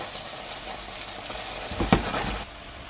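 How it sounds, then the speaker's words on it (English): Steady broadband sizzle of food frying in a pan, with a brief clatter of stirring or scraping partway through before the hiss settles back. "It's been frying about 2 or 3 minutes on this side."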